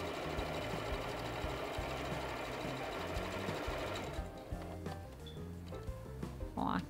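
A sewing machine running a straight seam to join fabric, a fast steady rattling hum close by, then slowing into uneven bursts and pauses toward the end.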